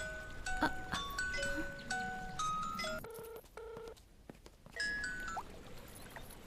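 A telephone is dialed, with a quick run of keypad tones and then a ringing signal, set among chiming, tinkling background music.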